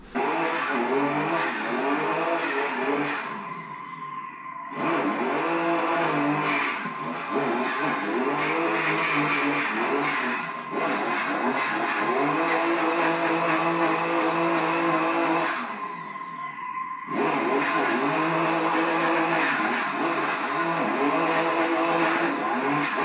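A drift car in the Assetto Corsa racing game revs hard and continuously, engine pitch sweeping up and down through gear changes with brief dips between bursts, loud and close throughout.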